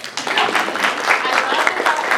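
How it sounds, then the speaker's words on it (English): A seminar audience claps together for a woman who has just spoken, a dense wash of applause across the whole short moment with voices mixed in. "let's clap for her"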